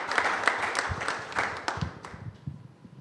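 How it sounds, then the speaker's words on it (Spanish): An audience applauds the moderator and guests at a UACM literary session in Mexico City: dense, mid-distance clapping that gradually thins and fades toward the end. "Un aplauso para nuestra moderadora y nuestros invitados"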